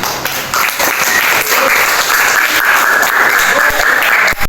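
A classroom of students claps for a student group after a presentation, loud, dense and sustained for several seconds, with a faint voice mixed into the crowd noise.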